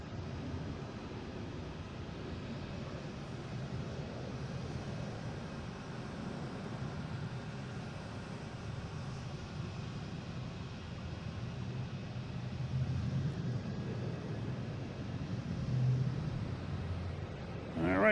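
An American Airlines Embraer E175 jet at Boston Logan airport gives off a steady broadband engine roar heard from a distance, swelling slightly toward the end, with people talking at times.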